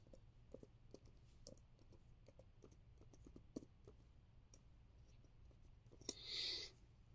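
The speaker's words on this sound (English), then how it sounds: "I can type with the keyboard here if I wanted to" Faint, scattered key clicks come from typing on a Logi Combo Touch keyboard attached to a 13-inch iPad Pro (M4), tapping irregularly and quietly, with a short soft hiss near the end.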